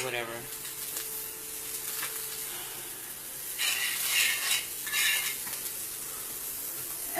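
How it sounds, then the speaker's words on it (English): A vegetarian omelette with mushrooms, onions and spinach frying in a pan with a little butter over moderate heat, giving a continuous close sizzle with stirring scrapes and two louder hissing bursts, while a voice talks over it. "I am cooking a vegetarian omelet"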